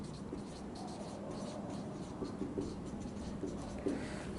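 Marker or chalk writing on a classroom board during an integers maths lesson, a soft continuous scratching that runs steadily throughout with a few slightly louder strokes, over faint room noise.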